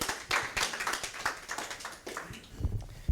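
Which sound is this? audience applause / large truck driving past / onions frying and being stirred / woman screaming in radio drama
audience applause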